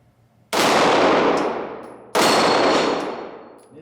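Two sharp, loud pistol shots from a Springfield XDM Elite, each followed by a long ringing decay, with faint metallic pings from a steel target after each report.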